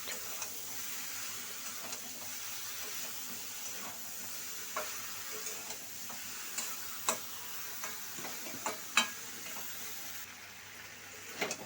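Hilsa fish curry with green chillies cooks in a pan, a soft steady sizzle under scattered light ticks and clinks of a stirring utensil, faint and fairly close.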